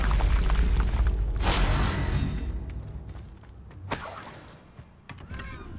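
A Bombarda spell blast in Hogwarts Legacy, a loud booming burst with crackling debris, then a second explosive hit a couple of seconds later over a dense rumbling game soundscape, no voices.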